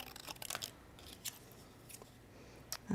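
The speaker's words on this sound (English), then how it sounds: "It amazes me how straight you can cut with a pair of scissors." Scissors snipping paper during a craft project, a few short crisp cuts spaced unevenly through a quiet room, faint and close.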